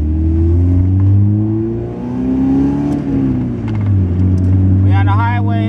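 A manual car's engine drones and rises in pitch as it accelerates in first gear toward a highway, dipping briefly as revs change, close up and loud, with a voice speaking near the end.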